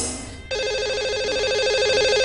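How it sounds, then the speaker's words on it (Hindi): A telephone ringback tone plays as a radio show dials out to a lucky caller: a short noisy lead-in, then a steady, loud, warbling ring tone that carries on alone to the end. "लगाते हैं इन्हें कॉल और करते हैं बात।"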